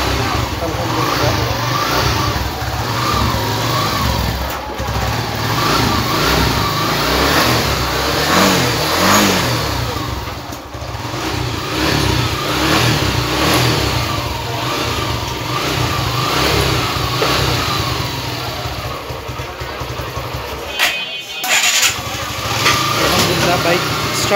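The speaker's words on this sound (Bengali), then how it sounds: "বাইক স্টার্ট নিয়ে নিল" A Suzuki motorcycle engine fires up and revs, its steady mid-range drone rising and falling over about twenty-four seconds, close and fairly loud, with a brief dip near the end and talk mixed in.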